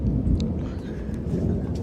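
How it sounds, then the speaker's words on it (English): Thunder rumbles deep and continuous during a severe thunderstorm with strong wind gusts and close lightning, a heavy low roar mixed with rain noise throughout. "I keep getting scared by thunder cracks"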